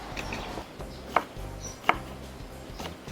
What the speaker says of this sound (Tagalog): I-chop natin siya maliliit para i-sprinkle natin on top.